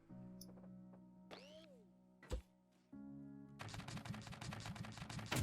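A cannon fires in the building game Scrap Mechanic: a single heavy boom lands mid-clip, followed by a loud, rapid mechanical rattling that keeps going to the end.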